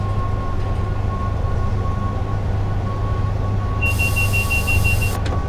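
A train of Mark II F coaches rolls along in a train driving simulator, a steady low rumble with wind noise and a thin whine, joined near the end by a loud, bright sustained tone.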